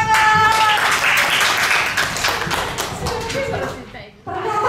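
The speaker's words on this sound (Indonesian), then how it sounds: "Tepuk tangan." Clapping in a school classroom setting, with broadband claps over the first few seconds mixed with voices and chatter, then fading before a brief pause and resumption.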